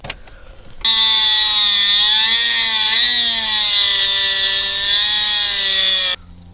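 A rotary grinder cuts a groove into a Foxbody Mustang fuse cover, making a loud, piercing, continuous high whine that shifts slightly in pitch for about five seconds, then stops abruptly.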